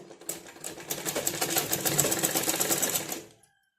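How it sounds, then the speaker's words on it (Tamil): A sewing machine stitches a folded quarter-inch fabric hem on a tailored blouse panel, running as a steady, close, rapid mechanical chatter for about three seconds before stopping. "கொடுத்துட்டு கெட்டி தையல் போட்டு 1/4 இன்ச்சில் ஒரு ஸ்டிச் போட்டுருங்க"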